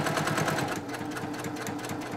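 A sewing machine runs steadily as it stitches binding onto a quilt, a close, even mechanical whir with a fast rhythmic needle chatter throughout and no talking.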